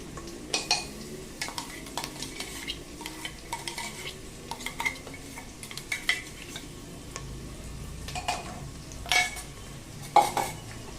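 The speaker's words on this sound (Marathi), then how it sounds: "कांदा छान मस्त परतला जातोय आपला." Onion sautés in a pan for Khandeshi masala khichdi, with a low frying hiss under repeated clinks and scrapes of a spoon stirring against the metal pan in an irregular rhythm.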